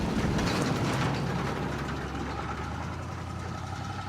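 The engine of a Chevrolet Impala idles in a steady, loud, low rumble with a mechanical clatter that runs through the whole stretch and does not change.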